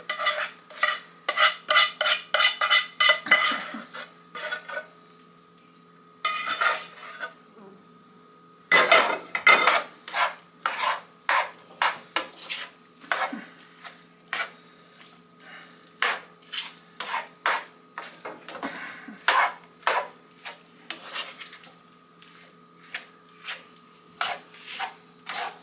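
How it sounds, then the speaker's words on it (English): A spoon stirs hot homemade dog food of oatmeal, chicken, egg and rice in a large pan, making repeated rhythmic scrapes and clinks of metal on the pan, close and clear, with a few short pauses and no talking. "I'm just going to mix all the hot ingredients now together in this large pan"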